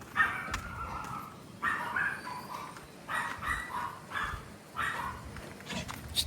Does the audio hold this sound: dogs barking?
yes